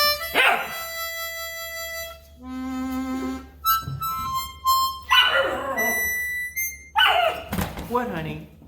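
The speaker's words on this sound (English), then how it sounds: "Ah, puppies." Puppies give several high, whiny yelps and short barks in close, irregular bursts, with a few soft thumps between them.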